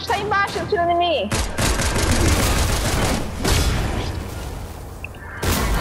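Rapid bursts of gunfire from the video game Fortnite, loud and repeated in quick volleys with booming impacts, while players talk over the shooting.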